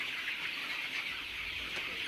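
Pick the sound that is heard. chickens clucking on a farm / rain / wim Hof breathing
chickens clucking on a farm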